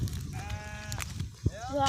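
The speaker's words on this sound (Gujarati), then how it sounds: "એ ઘેટા આવ્યા છે" Sheep bleating in a village in the Gir region, with people talking underneath. Two drawn-out, wavering bleats sound close by.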